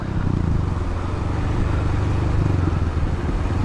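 Motorcycles on an asphalt road near Cianjur make a loud, continuous engine drone with a throbbing low rumble throughout the short stretch, and no talking.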